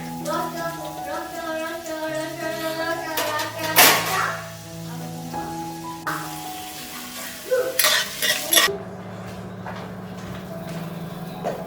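Onion and green chili tempering sizzling in peanut oil in a home kitchen pan, a steady sizzle with a few clinks of a spoon or pot, while background music plays throughout.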